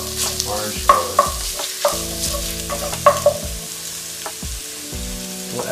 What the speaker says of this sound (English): And just spread the shrimp around the surface of the pan.